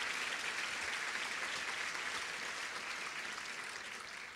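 Audience applause at a women's fund charity luncheon, a soft, even patter of many people clapping in a large room, steady for several seconds and fading slightly at the end, with no speech.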